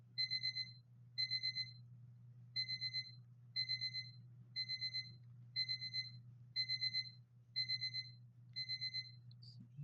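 A phone alarm rings in repeated bursts of quick electronic beeps, about nine clusters spaced roughly a second apart, clear and steady over a low background hum.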